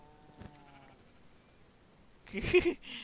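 Minecraft sheep with the Engender mod bleating once, close and fairly loud near the end, after quieter game ambience with no talk.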